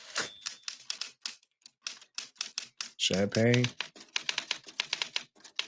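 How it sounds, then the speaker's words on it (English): Typewriter keys clatter in a scene from the 1990 film Misery, a run of quick tapping strokes heard under ongoing talk from a viewer and film dialogue. "Oh, the typewriter."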